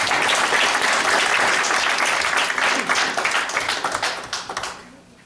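A church congregation breaks into loud, dense applause that carries for several seconds before tapering off.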